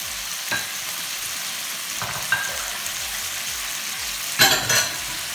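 Cooked shrimp stir-fried in a pan with holy basil, a steady sizzle and hiss broken by sharp scrapes and clanks of the spatula, loudest in a burst near the end.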